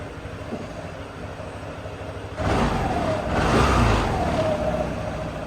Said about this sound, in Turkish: Böyle ufak da gaza basayım.